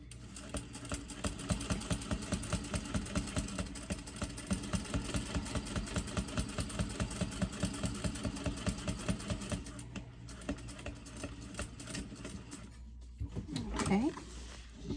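A sewing machine stitches a cork-sided zip pouch, a rapid rhythmic mechanical chatter running steadily before stopping near the end, followed by brief handling noises and someone speaking.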